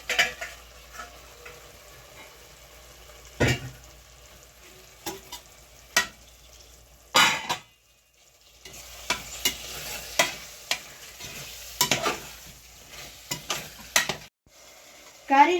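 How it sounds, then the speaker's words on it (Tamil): Chicken sautéed and stirred in hot oil in a pan, with steady sizzling and frying broken by repeated scrapes and clanks of a spoon against the pan, close and fairly loud, no talking. "அதனால இப்ப சிக்கன் போட்டு நல்லா வதக்க போறோம்"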